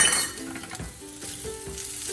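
Rice frying in olive oil in a pan gives a steady close sizzle, with a few soft clinks and stirring scrapes as the grains are broken apart.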